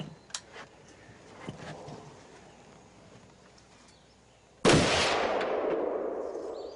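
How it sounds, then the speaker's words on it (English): A single rifle gunshot cracks loud and close after a few quiet seconds of faint outdoor ambience and light clicks, followed by a long fading echo. "him shooting a rifle and his reaction afterwards"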